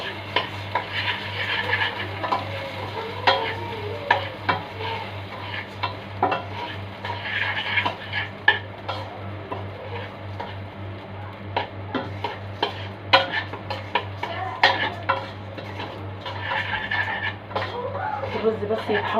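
Rice toasting in ghee and oil with spices while being stirred, a steady close sizzle with frequent spoon-and-pot clinks and scrapes throughout.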